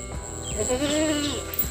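A goat bleats once in a wavering, drawn-out call during hand milking, close and fairly loud, with some faint background noise around it.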